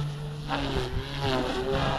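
An OMPHOBBY Multistar 3-blade RC helicopter runs its motor and rotor in a steady, close, continuous whine with a low hum, the pitch wavering slightly as rpm shifts.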